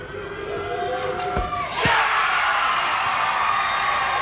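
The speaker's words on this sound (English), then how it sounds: "And the crowd is loving this." A crowd cheers and roars at a 1994 UK national wheelchair basketball tournament, with sharp impact sounds cutting through before the noise swells into a loud, sustained indoor roar.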